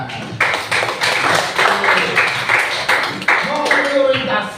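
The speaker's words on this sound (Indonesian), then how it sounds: "Tepuk tangan." Clapping from a classroom audience of students, quick rhythmic claps in repeated bursts, fairly loud and close, with voices mixed in over the clapping.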